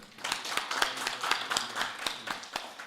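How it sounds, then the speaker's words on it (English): Scattered handclaps from participants at the Responsible Care Kenya chapter launch, a small group clapping faintly and unevenly for a few seconds with no talk over it. "Let's clap for both of them."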